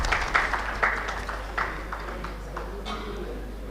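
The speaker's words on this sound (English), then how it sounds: "Can we please have a big round of applause" An audience at a rolling stock and urban infrastructure conference claps, the clapping scattered and fairly light with a few sharper hits, over a steady low hum in the hall.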